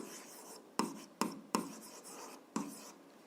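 Pen writing out an algebra math solution on paper, four sharp taps and short scratchy strokes at irregular spacing, quiet and close with no talk.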